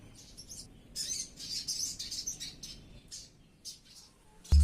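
A small sogon bird sings in quick bursts of high, bright chirps and trills, fairly close against a quiet background, ending with a sudden thump.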